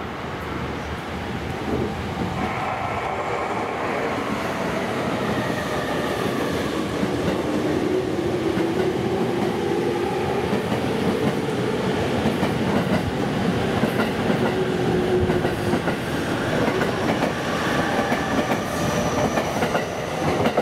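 A Sobu Line commuter train rolls along the platform at Hirai Station, Tokyo, its steady rumble joined by rising and falling wheel squeal as it moves.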